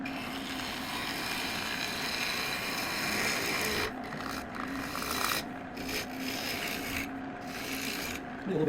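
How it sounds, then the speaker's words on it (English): A scraper works an English walnut live-edge bowl spinning on a lathe, giving a continuous close rasping scrape that drops away in a few short pauses toward the end. "And we're going to take care of that with my scraper."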